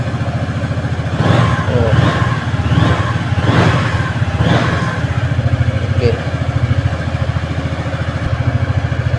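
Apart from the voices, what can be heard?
Yamaha X-Max keyless scooter engine starting and idling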